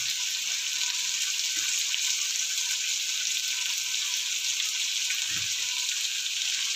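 Ginger garlic paste sautéing in a pan with mint and coriander, giving a steady, even sizzle with a few faint clinks of stirring underneath.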